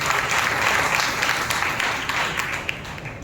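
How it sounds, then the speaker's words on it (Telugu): A church congregation at a Sunday harvest festival worship service claps loudly and steadily, a dense, continuous burst of applause close to the listener. "బిగ్గరగా చప్పట్లు కొట్టి ప్రభుత్వం మహిమపరుస్తావా?"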